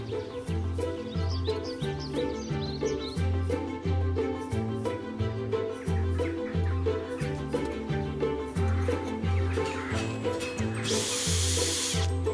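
A power drill or driver fixes brass fittings onto a wooden ship's wheel, running in steady repeated pulses over a low mechanical hum, ending with a brief burst of hiss.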